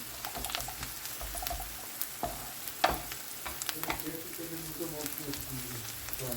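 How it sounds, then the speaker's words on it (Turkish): Tomato paste frying with sautéed onions in a pot, a continuous close sizzle broken by frequent scraping stirs and a sharper utensil clack midway. "1-2 dakika çevirerek salçayı da ayrıca kavuruyorum"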